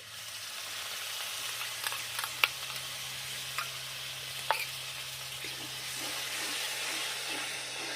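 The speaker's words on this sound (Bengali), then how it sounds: "এখন আমি দেবো ফেটিয়ে রাখা টক দই" A steady, close sizzle of spice paste frying in a pan as whisked sour yogurt is added for a Bengali doi bhola fish curry, with a few soft ticks and spatters across the hiss and no talking.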